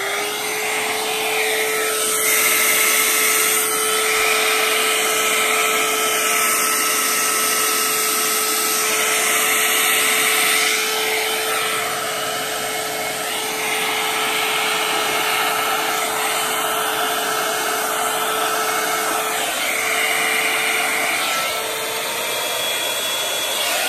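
A small hand-held blower with a nozzle roars continuously, blowing white Winsor & Newton Galeria acrylic paint across an 8x8 canvas during a Dutch pour, a close, loud whine with a steady tone and shifting airflow.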